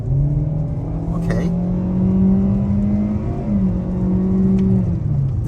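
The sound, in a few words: Kia Seltos AWD car accelerating on multi-lane road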